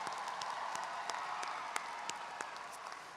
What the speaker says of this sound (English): Can we please give our graduates one more round of applause